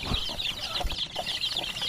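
High, rapid peeping from chicks chirps continuously near the listener, with a few soft low thumps underneath.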